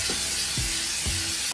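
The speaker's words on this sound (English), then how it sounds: "I'm gonna spray it with Pam." Pam cooking spray misted onto an Instant Pot rack, a continuous close hiss lasting about a second and a half and then cutting off.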